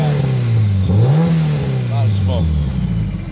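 Car engine restarting after clearing a flooded condition and revving up loudly, with a low steady drone that rises and falls through the rev, while someone talks over it.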